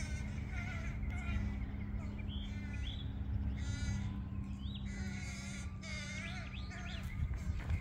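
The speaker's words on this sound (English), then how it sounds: "Look at those crows hanging out." Several crows caw repeatedly in short harsh bursts over a steady background hum, spread across the scene at moderate distance, with other birds chirping faintly.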